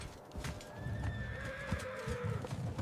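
Horses whinnying with a long rising neigh over clattering hooves amid a medieval battle, the Battle of Muret in 1213, a dense close commotion of thumps and hoofbeats throughout.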